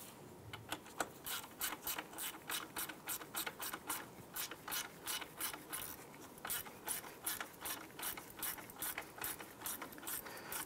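A ratchet wrench snugging nuts onto a bracket on a 2006-2018 Jeep Wrangler JK. It gives a long run of quick, regular clicking bursts, close by and fairly quiet.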